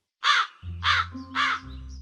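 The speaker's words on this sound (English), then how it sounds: "Yes, the crow is cawing." A crow caws three times in a steady rhythm, harsh and loud, with a low hum in the background.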